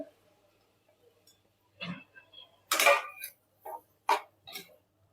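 Boiled potatoes and sautéed onion are mixed in a pan with a spoon for masala dosa filling, giving a few separate metallic scrapes and clinks spaced apart over near silence.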